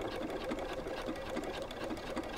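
Dual-feed sewing machine top stitching a cork wallet, a steady, fast mechanical whir of needle strokes running continuously at close range with no talking.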